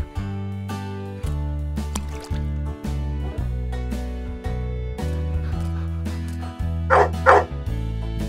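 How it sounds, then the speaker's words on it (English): A dog gives a couple of quick barks near the end, over continuous loud background music. "Dog."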